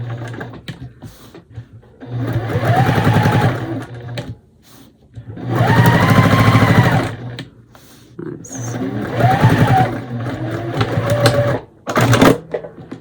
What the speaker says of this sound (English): And we're just going to sew.